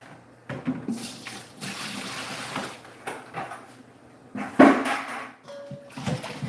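Reverse osmosis water runs and splashes into a container for making pineapple kombucha, in uneven bursts, with a brief louder gush near the end and faint clinks.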